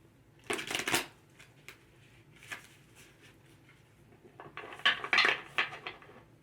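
Tarot cards being shuffled by hand, two or three bursts of riffling and papery flutter with quieter gaps between, close and fairly soft, with no talking.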